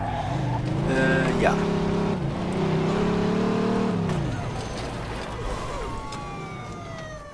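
Car engine in the video game Mafia 2 revving and surging as it drives, pitch rising and falling, with brief tyre noise and someone talking over it.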